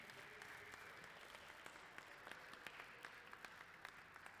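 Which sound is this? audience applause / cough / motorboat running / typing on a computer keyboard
audience applause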